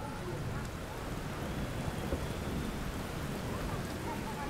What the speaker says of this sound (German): Das Gewitter zieht ab, der Regen lässt etwas nach.